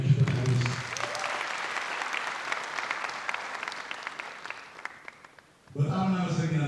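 Steady audience applause at a film premiere, loud and continuous for several seconds, with a voice speaking briefly before it starts and again after it dies away.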